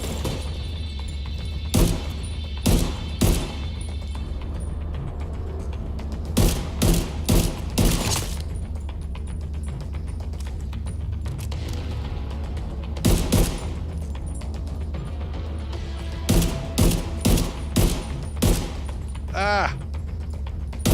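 Bursts of gunfire in The Division 2, loud clustered volleys of rapid shots recurring every few seconds over a steady low game rumble, with a voice briefly talking between them.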